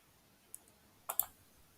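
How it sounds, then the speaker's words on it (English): Two or three sharp computer mouse clicks, a light tap followed by a quick double click, close and distinct against a quiet background, with no talking. "and clicking on save."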